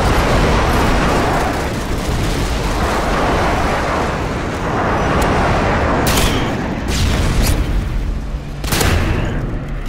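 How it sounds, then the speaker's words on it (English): Airstrike explosions in Call of Duty: Modern Warfare 2 rumble as a dense, continuous roar of blasts with heavy low-end booms, including sharper bursts near the end, loud and close without any talk. "Friendly airstrike inbound."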